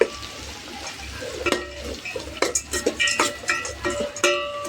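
Onions frying in a pan for a Karnataka-style tomato bath, with a soft steady sizzle under repeated scraping and clinking strokes of a spoon against the pan as they are stirred.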